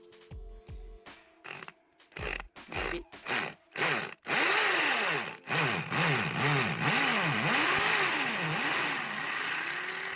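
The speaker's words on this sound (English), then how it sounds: "So now we're gonna attempt to drill the stone. So we're trying to use a drill for ceramic." A drill with a ceramic bit starts boring into stone in short stuttering bursts, then runs continuously, grinding loudly with a harsh, wavering pitch as it bores in.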